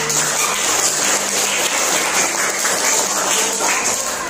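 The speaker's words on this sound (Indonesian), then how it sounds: "Bu Guru berikan tepuk tangan untuk semua kelompok" Students in a classroom applauding the presentation groups, a steady wash of many hands clapping at once, loud and unbroken throughout.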